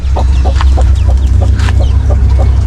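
A mother hen clucks in short, regular soft calls near a fishpond on a farm, with faint chick peeps scattered over a steady low rumble of background noise.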